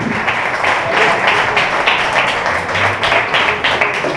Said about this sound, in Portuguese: Uma salva de palmas para o Rei.